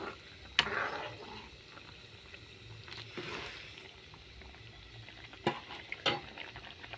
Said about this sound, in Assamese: এয়া মোৰ বিলাহী মাছৰ জোল দেখিছে কি ধুনীয়াকৈ উতলি আছে।